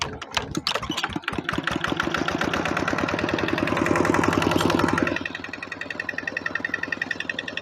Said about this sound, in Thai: หมุนรถไถนะครับ ติดเครื่องเลย